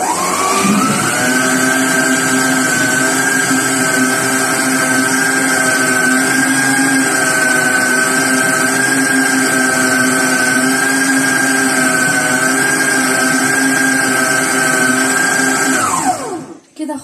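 An electric mixer beating cake batter made with warm milk in a bowl, a loud steady whirring motor hum running unbroken for about sixteen seconds before winding down and stopping.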